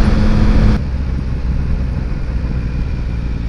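Yamaha MT-09 900cc motorcycle riding, a steady engine drone and rushing road noise that stay loud and even throughout, with a brief brighter burst in the first moment.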